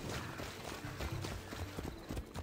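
Horse hooves clip-clop in the video game Assassin's Creed Odyssey, a quick, busy rhythm of hoofbeats mixed into dense game sound and background noise.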